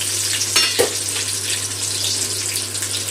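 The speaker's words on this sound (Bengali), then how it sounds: "ফোড়নটা একটু তেলে ভেজে দেবো।" Whole garam masala, cumin seeds, bay leaf and dried red chillies sizzle steadily in hot oil in a home kitchen, a continuous close frying hiss with a couple of brief louder spits and a low steady hum beneath.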